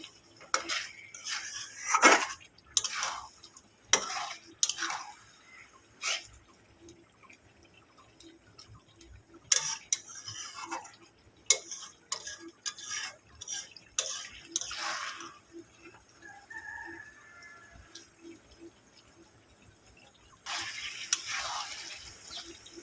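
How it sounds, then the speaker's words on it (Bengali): A metal spatula clanks and scrapes against a pan as chicken is stir-fried for a chicken pepper fry, with irregular bursts of clatter separated by quiet gaps and little audible sizzle. "চিকেনটাকে আমি দু মিনিট একটু কষিয়ে নেব"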